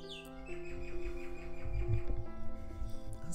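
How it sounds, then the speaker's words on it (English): A little bird outside a window sings a faint, fast run of chirps behind a steady indoor hum, distant and soft. "there's a little bird outside"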